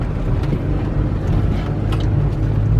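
A Toyota Corolla with a clunk fault rolling slowly over gravel, a continuous loud low rumble and crunch with wind-like noise throughout.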